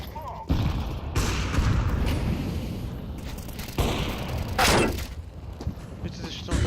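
A grenade blast in the Counter-Strike 2 video game is heard amid dense, continuous gunfire and thudding effects, with a loud, bright burst near the middle standing out from the steady background of battle noise.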